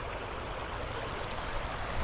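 A creek in Placerita Canyon State Park flows and rushes in a steady, full wash of water close by, with no breaks and no voices.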